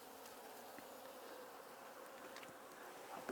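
Honey bee swarm buzzing inside a basket, a steady, close, continuous hum from a small spring after-swarm clustered together, holding level throughout with a slight rise at the very end.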